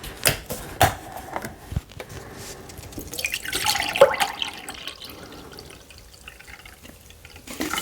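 Apple juice poured into a measuring cup in a home kitchen, a few splashy trickles and drips rising into a gurgling pour, then tapering off.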